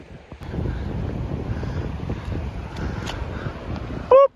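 Wind and ocean surf at Clearwater Beach make a steady, broad rush of wind buffeting the microphone, with waves washing underneath, and a brief voice at the very end.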